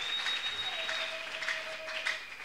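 A church congregation applauds in praise, steady and fairly close, with a few cheers and whistles rising over the continuous clapping.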